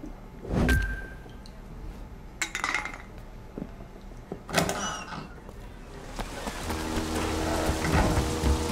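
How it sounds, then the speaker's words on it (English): Rain in the open-world game Sleeping Dogs, a steady hiss of rainfall building over the final seconds, with a few sharp transient clatters and thumps earlier on. "Oh great, it's raining"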